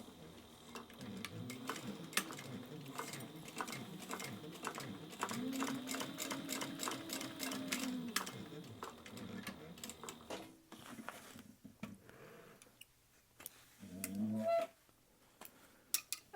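A sewing machine runs a quick ticking stitch along the 1/4 inch seam of a fabric phone pocket, fairly quiet and steady for about ten seconds, then stops and is followed by a few handling sounds.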